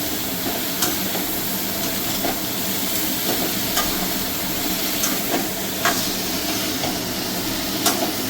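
Mixed vegetables hit a pan of lightly fried prawns for a Bengali chorchori, giving a continuous close sizzle with occasional sharp clicks and scrapes of stirring, no voices.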